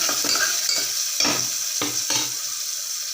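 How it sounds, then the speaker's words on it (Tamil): Chopped onion fries in a pan with curry leaves, a steady sizzle broken by several scraping stirs of a spoon, close and clear with no talking. "வெட்டி வச்ச வெங்காயத்தை போட்டுக்கலாம்"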